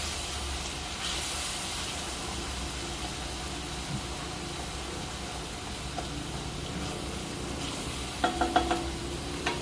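Tomatoes cook in hot oil for a dhaba-style paneer tikka masala, giving a steady close sizzle and hiss, with a few light clinks of stirring near the end and no talk.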